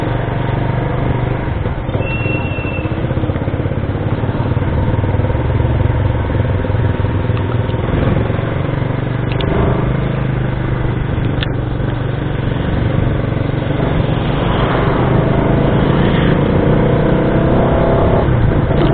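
A fuel-injected Rusi Flash150X motorcycle held in third gear on a highway, with a steady loud engine drone and heavy wind rush throughout, close to the rider.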